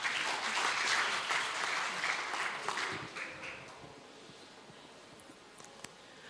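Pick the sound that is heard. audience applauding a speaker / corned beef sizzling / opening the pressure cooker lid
audience applauding a speaker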